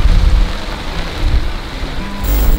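Heavy rain in Khulna, Bangladesh: a close, loud wash of downpour with low rumbling swells and gusting noise, steady for the whole stretch without speech.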